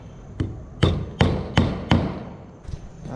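A hammer drives a nail at a diagonal into two joined wooden boards, giving five sharp, evenly spaced blows close by, followed by lighter taps near the end.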